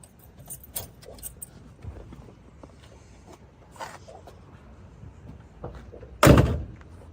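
A classic muscle car's door shuts with one solid, loud slam near the end, preceded by several softer clicks and handling knocks at close range.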